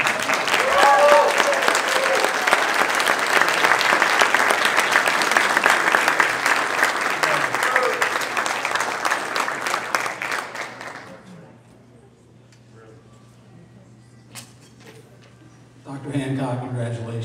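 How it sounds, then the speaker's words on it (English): Sustained audience applause at a Modeling & Simulation Hall of Fame ceremony, loud and steady for about ten seconds before fading out into quiet, with a brief swell of noise near the end. "so I would like, if you have any applause,"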